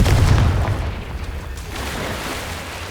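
Confringo blasting spell going off in the video game Hogwarts Legacy: one heavy, close boom that rolls off into a fading low rumble.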